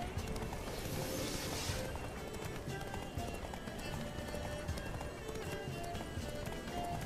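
Roach the horse galloping with Geralt riding in The Witcher 3, a steady rapid drum of hooves running continuously at close range over game ambience, with speech faintly present.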